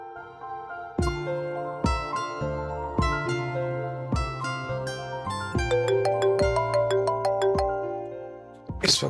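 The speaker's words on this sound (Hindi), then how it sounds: "इस वक्त इसका फोन। सीमी।" A mobile phone ringtone plays up close, a bright electronic melody of repeated chiming notes in a steady looping pattern that grows denser before ending in a short burst.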